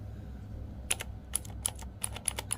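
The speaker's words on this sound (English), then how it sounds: "the key sound is also really very attracting to me" Crisp clicks from a Rapoo V500 Pro 87 mechanical keyboard, a handful of sharp keystrokes in quick irregular bursts over a low background hum, close and clear.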